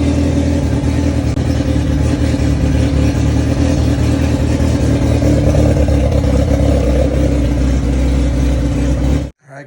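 A 2001 Yamaha YZF R6 sport bike engine runs steadily at a loud idle-to-mid rev with the rear wheel spinning freely on a stand, continuous and close, cutting off abruptly at the end.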